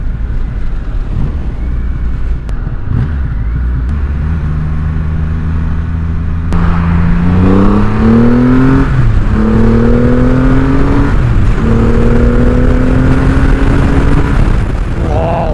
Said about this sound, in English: Oh, ah, this is a powerful bike.